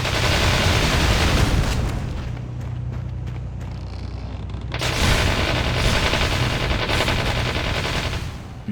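Dense, continuous rapid gunfire from the video game Freedom Convoy, a loud sustained roar of shots with heavy rumbling booms and only a brief dip midway before resuming at full intensity.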